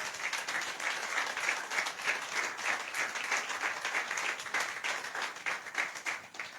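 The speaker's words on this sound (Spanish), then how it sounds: "denle aplauso al Señor." Church congregation applauding during a worship service, a continuous even patter of many hands that stays moderately soft and keeps an unbroken level from start to finish.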